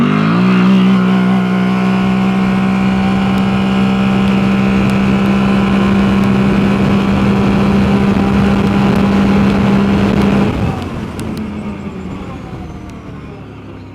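A Can-Am Outlander or Renegade ATV fitted with a billet QSC primary clutch runs loud and close with a steady droning engine note. After about ten seconds the note drops away and the sound fades as the machine moves off.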